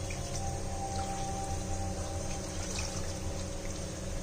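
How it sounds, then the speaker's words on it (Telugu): A glass of water pours steadily into a pot of head-meat curry, a continuous watery rush for about four seconds with no talking. "ఒక గ్లాస్ వాటర్ పోసుకున్నాం ఫ్రెండ్స్."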